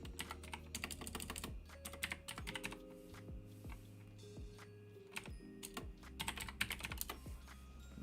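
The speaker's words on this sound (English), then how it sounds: "Damn, it's all a mess, my typing" Rapid keystrokes on a computer keyboard during a live forex trading session, a steady stream of close, crisp clicks in uneven bursts over a low tonal background hum.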